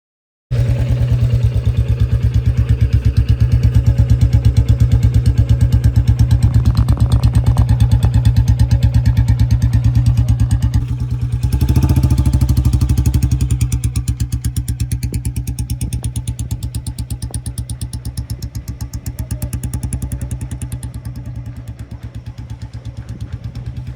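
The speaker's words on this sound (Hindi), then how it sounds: "आपको सुनाएंगे कि बुलेट की आवाज़ कैसी है, अगर आपके पास से गुजरे और दूर से कैसी आवाज़ आती है।" A 2025 Royal Enfield Bullet motorcycle engine runs steadily at low speed with a loud, close, continuous thumping putter, briefly swelling midway before settling and easing slightly toward the end.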